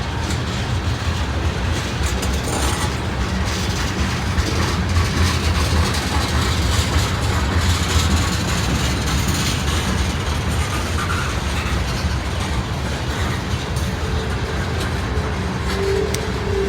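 A freight train of brand new tank cars carrying anhydrous ammonia rolls steadily past near a rail yard, a continuous rumble with wheel clatter and a low engine drone, with no talking.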